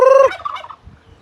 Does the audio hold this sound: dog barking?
no